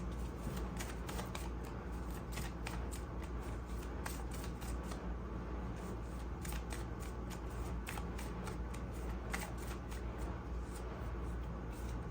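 Tarot cards shuffled by hand in a steady run of quick riffling flicks and soft slaps, close and continuous over a constant low background hum, with no talking.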